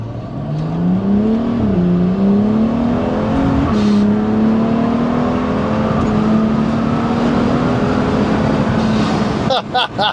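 A car with a BMW N55 engine accelerates hard, its loud engine tone rising steadily through the revs for several seconds before cutting off, followed by a few brief knocks at the end.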